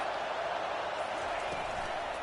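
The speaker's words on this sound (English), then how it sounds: "This crowd trying to make life miserable for this offense." A dense, steady roar rises from a football stadium crowd at an LSU game, distant and continuous with no breaks, like a wall of massed voices.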